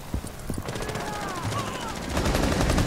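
Rapid gunfire in a first-person shooter game, a burst of repeated shots over steady game ambience, fairly close and loud, with no talk during it.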